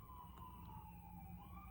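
An ambulance siren passes by at a distance, a faint wailing tone that slowly falls and then rises again under a low background rumble.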